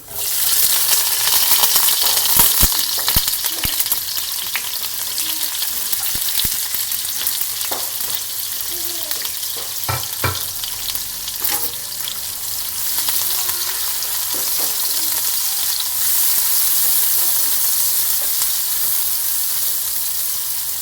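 Onions sizzle and crackle steadily in a hot pan for chicken karahi, with occasional clinks and stirring sounds over the steady frying hiss.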